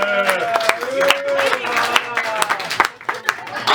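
Comedy club audience at the Avalon Theater clapping in scattered, uneven bursts while the comedian keeps talking over the sound.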